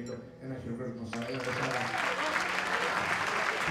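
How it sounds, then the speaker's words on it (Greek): Applause from an audience at a Greek event on Milos, with tones and voices fading as broad, steady clapping takes over and fills the rest of the stretch. "Ένα χειροκρότημα σα."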